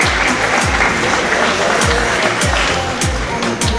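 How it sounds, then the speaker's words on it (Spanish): A boxing exhibition crowd applauds female boxers, a dense, steady wash of clapping that keeps going the whole time, with rhythmic low thumps pulsing underneath. "Bien ganado el aplauso para las chicas."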